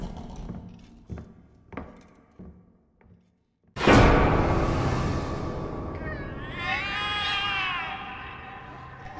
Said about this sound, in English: The cats are alarming.